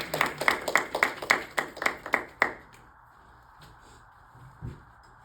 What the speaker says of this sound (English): Please give a round of applause for Ms.